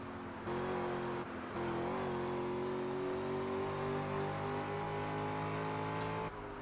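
A car engine in the racing video game Test Drive Unlimited holds a steady, smooth drone at high revs with a slowly rising pitch, then cuts off briefly and resumes, loud and continuous with no talking.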